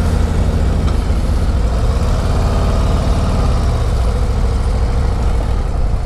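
Harley-Davidson Road Glide 117 motorcycle idling in neutral, a steady deep engine and exhaust rumble that holds loud and close without a break, with no talking over it.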